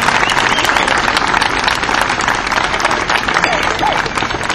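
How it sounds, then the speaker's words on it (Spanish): Loud, sustained crowd applause at an outdoor political vigil in Coamo, Puerto Rico, dense steady clapping with cheering voices filling the whole stretch without a break. "Fuerte el aplauso para el licenciado Juan Dalmao."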